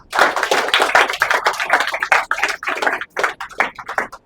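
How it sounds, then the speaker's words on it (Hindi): An audience claps in loud, uneven bursts at a stage-fear workshop, with brief gaps and a short pause near the end. "इसके लिए तालियां होनी चाहिए"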